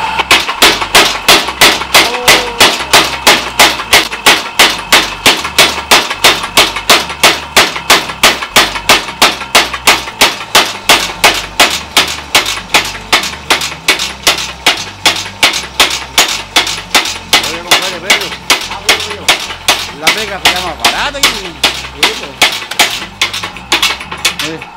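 A modern hammer strikes metal in a steady, rapid series of sharp clanking blows, loud and close, repeating evenly for nearly half a minute with faint voices underneath.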